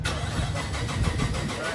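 A car engine running on E85 fuel starts up and settles into a rough, rumbling idle, close and fairly loud, with a voice briefly talking over it.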